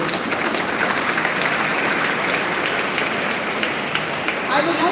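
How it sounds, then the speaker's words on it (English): Steady applause from an audience at a school event, a dense continuous patter of many hands filling the hall evenly throughout with no clear pauses. "A round of applause is very much needed."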